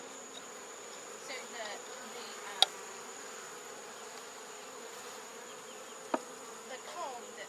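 Honey bees drone steadily around a hive built inside a propane tank, a close, continuous buzzing hum with a couple of sharp clicks and no voices.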